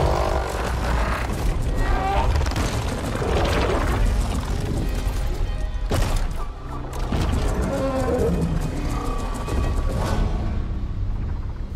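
Dense machine combat from an Oliphant creature in Horizon Forbidden West, with sustained rumbling, crashes and mechanical clanks at close range filling the whole stretch, a sharp impact near the middle.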